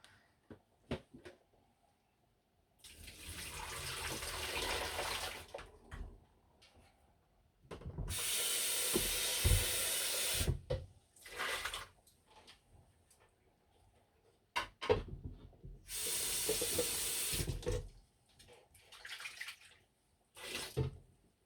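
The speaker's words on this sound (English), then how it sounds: "to clean out the blender, we just put some washing up liquid and water in it" Water and washing-up liquid sloshing and rinsing inside a kitchen blender, in several loud bursts of a few seconds each separated by quieter clattering handling sounds.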